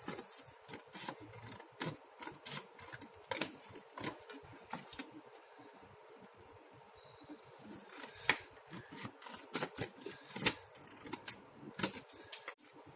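Paper being cut along a scored line for a handmade gift bag, heard as a series of sharp, close snips and rustles, irregular and fairly quiet, with brief pauses between bursts of cuts.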